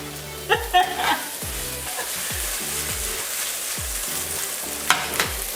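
Onions fry in a pan for chicken fajitas, a constant moderate sizzle with a few sharp utensil knocks near the start and end over a repeating low thudding, and no one speaking.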